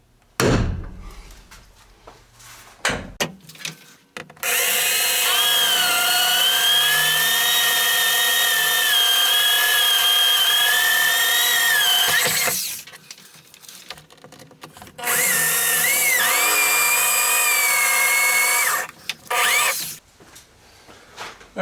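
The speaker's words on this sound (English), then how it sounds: "use a 1/8 bit to bore out the rivet hole" A drill with a 1/8 inch bit boring out a rivet hole during an engine bay light upgrade, two long sustained whining runs of about eight and four seconds, loud and close, separated by clicks and handling noises.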